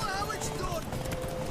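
Hooves of a white horse clip-clop steadily at a gallop in The Witcher 3, under continuous voices talking over the game sound.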